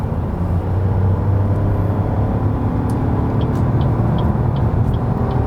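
A 2020 Opel Astra facelift accelerates from about 80 km/h on a German Autobahn, a loud, steady low engine and road rumble filling the cabin throughout, with no talking.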